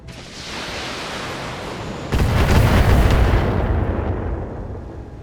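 LRM missiles firing in the Battletech video game, a loud sudden whooshing roar that bursts in partway through and rumbles on in a dense, crackling salvo before slowly fading, over steady engine-like background hum.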